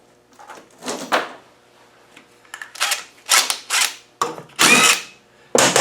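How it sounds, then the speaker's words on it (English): A spanner works on a car's brake master cylinder, giving a series of close metallic clicks, ratchet turns and scraping bursts in uneven bunches, loudest toward the end, with no talking. "Should we get a spanner out and have a look at it?"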